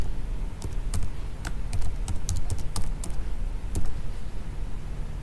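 Rapid typing on a computer keyboard while entering formulas in an Excel spreadsheet, with irregular bursts of crisp, close key clicks and short pauses between runs of keystrokes over a soft background hum.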